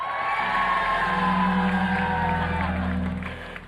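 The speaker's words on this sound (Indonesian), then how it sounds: "Teriakannya nusuk kuping" A television studio audience group shouts and cheers together in a sustained loud, close roar of voices lasting a few seconds before trailing off.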